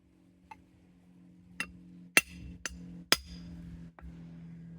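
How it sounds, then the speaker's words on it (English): Large hammer striking tin sheet in basic tinsmithing, giving about five sharp metallic strikes at irregular intervals, fairly close and moderately loud over a low steady background hum, with no talk. "And the reason I'm using the bigger hammer, besides the weight, is the fact that it has a much larger contact surface."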